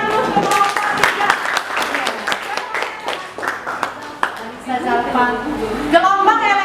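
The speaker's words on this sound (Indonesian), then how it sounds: "Beri tepuk tangan dulu untuk kelompok 3." A classroom group claps and applauds for a presentation group, with dense, uneven hand claps. Voices and cheering run over the clapping throughout.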